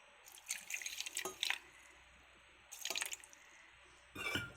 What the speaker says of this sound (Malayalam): ഇനി ഇതിലേക്ക് കുറച്ച് പച്ചവെള്ളം ഒഴിക്കാം.